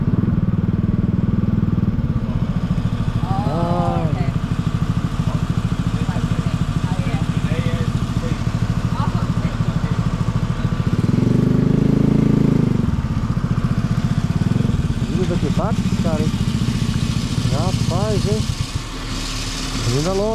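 A Yamaha Teneré 700 motorcycle engine rumbles and revs nearby, rising as it passes, with someone talking excitedly over the noise throughout.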